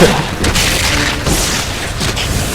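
A gunshot fired straight through a target in Resident Evil 6, a loud booming blast that fills the short stretch, with sharp repeated cracks standing out over a dense, noisy game mix.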